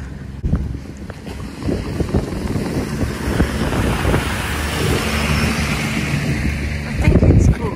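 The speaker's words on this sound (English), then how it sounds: "Oh, a little bit windy." Wind buffets the microphone in loud, gusty rushes, with traffic-like rumble and faint talk underneath.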